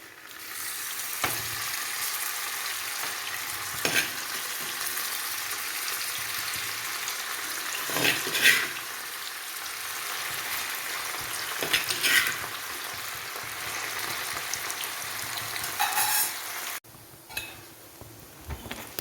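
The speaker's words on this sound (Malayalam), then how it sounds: "ഇനി നമുക്കിത് കുറേശ്ശെ ഇട്ട് വറുത്ത് കോരി എടുക്കാം" Marinated fish fries in hot oil in a pan for a gravy-style fish pickle, making a steady crackling sizzle with occasional stirring scrapes and clinks against the pan.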